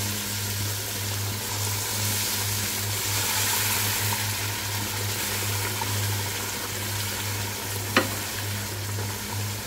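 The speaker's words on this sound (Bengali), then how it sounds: "এখন গরম পানি দিয়ে দিচ্ছি একটু, যেন মশলাটা ভালো মতো কষানো হয়ে যায়।" Hot water hitting duck curry spices in a pan sets off a steady sizzling and frying hiss over a low constant hum, with one sharp clink near the end.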